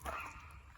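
Old sister dogs give a brief, faint whimper and yip, short and somewhat distant.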